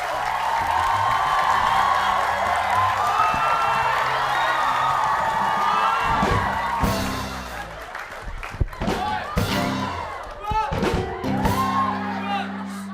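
A group of children shouts loudly together in a boisterous, chaotic burst, with cheering-like yells filling most of the clip, then broken shouts and speech.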